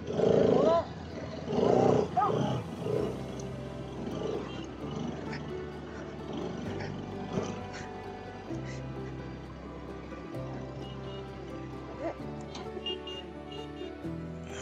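A dog on an off-road track near Ooty gives a few loud, rough, growling barks close by at the start, then the sound falls to a quieter background of engine hum and movement.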